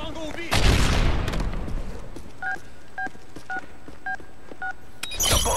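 Bomb planting in Call of Duty: Modern Warfare 3, a string of five evenly spaced electronic keypad beeps following a loud burst of gunfire-like noise, with game ambience and a final burst at the end.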